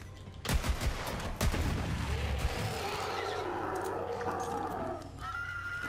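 Two heavy hand cannon gunshots boom near the start in Borderlands 3, followed by a horse's whinny rising and falling over steady background rumble.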